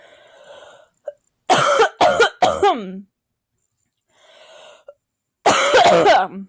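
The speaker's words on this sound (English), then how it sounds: "Nothing like a cough attack to end off the video." A close burst of harsh coughs in quick succession, a pause with soft breathing, then another loud round of coughing.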